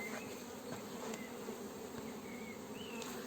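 Honeybees hum in a dense, continuous drone at an open hive in an apiary, with individual bees zipping past close by now and then over the steady buzz.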